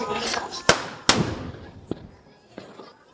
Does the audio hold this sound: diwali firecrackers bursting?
yes